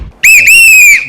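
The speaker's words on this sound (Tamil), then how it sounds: "ஏய் யாரா விசில் அடிக்கிறது?" A person whistles a single loud, shrill note that rises and then holds steady for about a second, heard close and alone.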